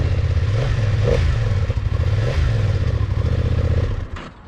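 A 2020 BMW F900XR with 4662 miles idles and revs up close, its steady engine rumble swelling with a few throttle blips before cutting down near the end.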